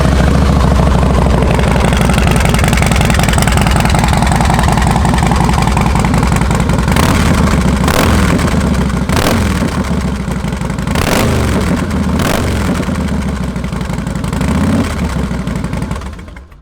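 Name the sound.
2004 Harley-Davidson Fat Boy motorcycle engine starting, idling and revving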